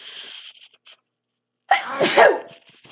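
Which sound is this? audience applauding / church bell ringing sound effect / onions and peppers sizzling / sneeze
sneeze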